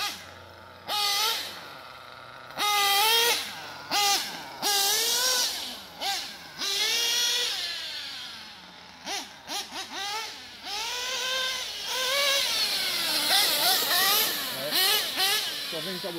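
A brand-new Kyosho Inferno ST RC car drives and pulls a wheelie, its motor giving repeated short bursts of high, whining revs that rise and fall with brief gaps, close and fairly loud.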